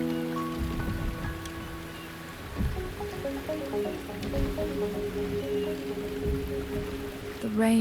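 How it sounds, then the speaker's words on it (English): Rain in the Wuthering Waves game, a soft steady patter of drops on surfaces under a layer of music tones, continuing throughout at moderate volume. "The rain is subsiding, and the sky will soon clear."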